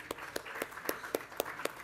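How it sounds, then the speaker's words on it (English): Round of applause welcoming a guest at an online masterclass, a few sparse, faint hand claps in a slow, uneven rhythm. "let's welcome him with a round of applause at least"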